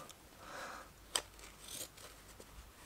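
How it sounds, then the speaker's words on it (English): Ordinary paper scissors working at old denim fabric, with a few faint snips and crunchy scrapes of blades on thick cloth, quiet and sparse, no talking. "If I take my normal paper scissors."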